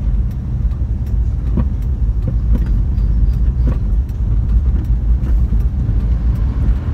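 Heavy road traffic in Jambi, jammed with coal trucks, makes a loud, continuous engine rumble with passing vehicles and occasional faint clanks, no speech over it.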